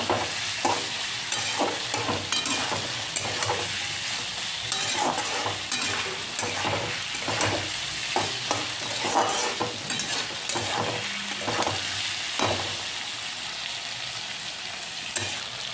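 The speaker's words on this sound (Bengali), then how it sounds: "এবার আমি এর মধ্যে দিয়ে দিলাম আদা রসুন বাটা। আদা রসুনটা দিয়ে মিনিট খানেক এইভাবে নাড়াচাড়া করে নিতে হবে।" Ginger-garlic paste and chicken gizzards frying and being stirred in a pan, with a steady sizzle and repeated scraping strokes of the spoon throughout, close and continuous.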